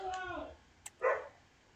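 Excited pet dogs let out a whiny yelp followed by a single short bark, distant and faint in the background.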